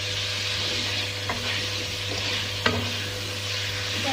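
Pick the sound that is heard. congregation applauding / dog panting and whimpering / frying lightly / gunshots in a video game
frying lightly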